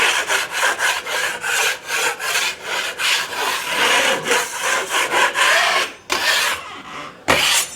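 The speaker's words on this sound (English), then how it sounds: "Give it one last scrape down." Dried filler on a wall patch being scraped down with a blade, giving loud, close, rhythmic rasping strokes in a steady back-and-forth run, then a short pause and two final scrapes.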